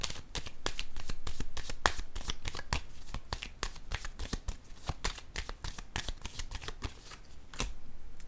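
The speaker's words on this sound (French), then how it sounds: "je vais piger une carte pour cette zone" Tarot cards being shuffled and drawn, a dense run of crisp riffling flicks and snaps that repeat steadily at close range, with no voices over them.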